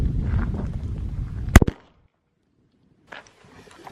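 A single sharp gunshot cracks out at a target outdoors during a casual car meet, loud and abrupt, with a short decay. Low rumbling background noise comes before it and quiet faint sounds follow.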